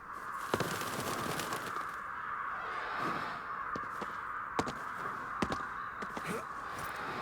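Crows cawing in the video game Ghostwire: Tokyo, a series of sharp harsh calls repeating irregularly over a steady ambient hum, fairly faint and with no talking.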